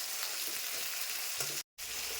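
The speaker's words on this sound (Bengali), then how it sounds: "আলুটা ভাজা ভাজা হলে তখন মশলাটা দিব।" Potato and tomato pieces frying in oil with cumin seeds: a dense, even sizzle heard up close without any voices, broken briefly by a short moment of silence near the end.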